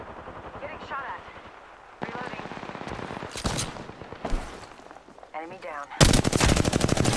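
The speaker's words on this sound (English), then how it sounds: "Getting shot at." Rapid automatic gunfire bursts from the Apex Legends battle royale shooter, crackling loud and close in several volleys with a heavy sustained burst near the end, under brief spoken callouts.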